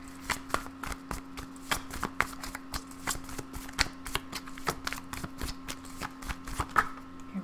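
Tarot cards shuffled by hand in repeated quick riffles and slaps, close and fairly quiet over a soft steady background hum.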